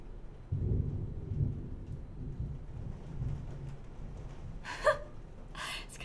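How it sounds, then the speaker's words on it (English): Rain falls steadily outside while thunder rumbles low and loud at first, then fades, followed later by a couple of sharp, crackling bursts. "Can you hear the rain?"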